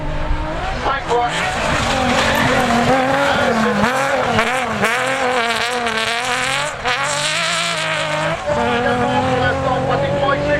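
A rally car tears through a special stage of the Dunes & Marais rally near Maubeuge, its engine loud and close with rising and falling revs, gear changes and tyre squeal, while a commentator talks over it throughout.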